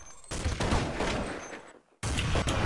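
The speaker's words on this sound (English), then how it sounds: "He's getting shot from the right." Gunfire in a Counter-Strike match on de_mirage at a 2011 esports tournament: a dense, loud burst of rapid shots, a brief near-silent gap, then more firing.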